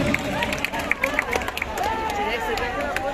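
An audience at a school event claps in scattered, uneven bursts to welcome a Jubo Dal leader, mixed with crowd chatter and a voice speaking over it.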